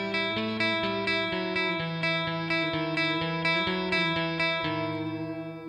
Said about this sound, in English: I'm using a sort of Fender, a clean Fender amp with plenty of reverb